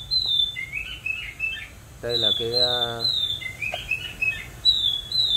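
Bright, high chirps and twitters come from a tamed songbird in several close bursts, while someone speaks briefly in the middle.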